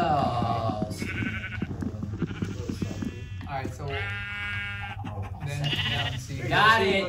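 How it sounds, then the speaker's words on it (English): Repeated bleating from sheep in the video game Minecraft, several short wavering calls spaced across the stretch, heard close and clear while people talk and laugh over them. "I don't like that you can't hit the sheep in the water."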